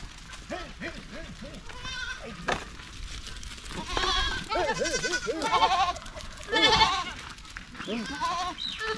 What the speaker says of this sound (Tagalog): Pinastol na ni Kuya Tirso yung mga kambing